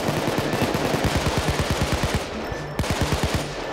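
Automatic gunfire in the heist shooter Payday 2 rattles in fast, loud continuous bursts, rapid rhythmic shots with a brief gap before firing resumes, dense and close.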